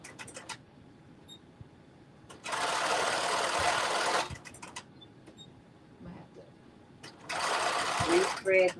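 A sewing machine stitching a jumpsuit seam at a 5/8-inch allowance runs in two loud, steady bursts of whirring needle noise, with a person talking in the quieter gaps between them.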